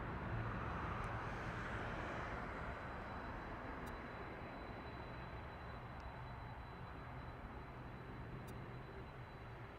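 A Boeing 737 airliner bound for LAX at Las Vegas Harry Reid International Airport produces a steady, continuous jet roar that fills the whole stretch at moderate volume, with no voices.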